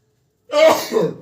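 A single sneeze bursts out suddenly after silence, a short, sharp, close sound with a breathy tail, heard on its own without talking.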